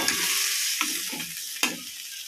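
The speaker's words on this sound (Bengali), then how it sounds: "জলটা দিয়ে ভালো করে মিশিয়ে নেব।" Olive chutney is stirred in a pan just after a cup of water goes in, a hissing sizzle with a few distinct scraping strokes of the spoon, close up.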